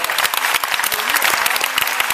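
Audience applause after a presentation at a film premiere: dense, steady clapping from a sizeable crowd fills the whole stretch with no voices on top.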